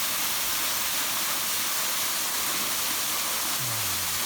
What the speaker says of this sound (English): come across this nice waterfall.